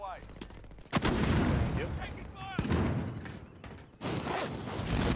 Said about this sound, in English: Where am I getting sniped from?